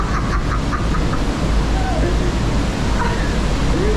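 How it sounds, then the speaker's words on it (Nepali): A river at night roars as a loud, constant broadband rush of flowing water, with faint voices partly audible beneath it. "खोलाको आवाज त डेन्जर आएको छ कि"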